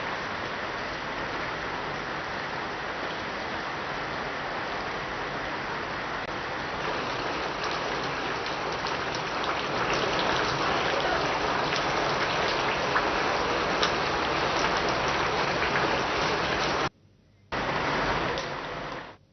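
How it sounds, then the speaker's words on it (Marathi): Heavy monsoon downpour in Nagpur, a dense continuous hiss of rain pouring steadily and loudly throughout, briefly cutting out near the end before resuming. "गेल्या 2 तासांपासून नागपूरमध्ये हा मुसळधार पाऊस कोसळतोय"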